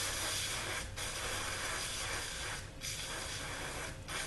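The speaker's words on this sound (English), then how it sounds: "Got my 10W40 spraying up inside of this hole here." 10W40 motor oil sprayed from a can up into a hole on a 2004 Yukon's spare tire cable mechanism, a steady close hiss broken by two or three brief pauses.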